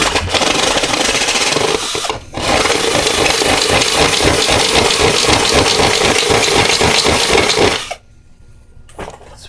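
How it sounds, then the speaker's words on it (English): A power drill bores into a cast aluminum plate, its motor whining steadily under load with a rapid rattling chatter, pausing briefly and then running hard again before cutting off to near quiet. "Oh, I think I'm having too much fun drilling on this thing."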